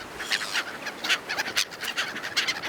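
Seagulls over the winter sea at Busan, a flock giving repeated short squawking calls that overlap in quick bursts, fairly close and lively.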